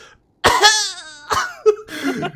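A voice imitates a cough with an exaggerated, drawn-out vocal bark, followed by a couple of shorter, throaty coughs.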